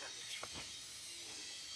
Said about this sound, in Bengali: মূলত এই শব্দগুলো হচ্ছে পোকার।